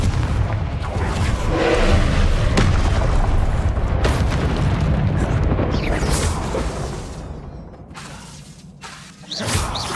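Confringo blasting spell explosions in the Hogwarts Legacy video game, loud booming blasts with crackling debris and a sustained rumble that fades, then a fresh burst at the end.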